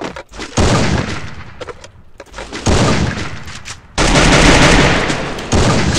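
Gunfire from the Free Fire video game comes in loud, dense bursts of rapid shots separated by short gaps, each burst ringing out close and heavy.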